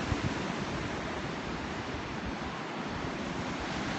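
Ocean surf at Laguna Beach gives a continuous, full wash of breaking waves, loud and steady throughout with a touch of wind and no voices.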